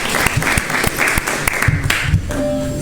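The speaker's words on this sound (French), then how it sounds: "Merci de l'applaudir." Audience applause for a bass player at a live show, a lively crowd of claps with sharp individual hits, mixed with low instrument notes and a voice near the end.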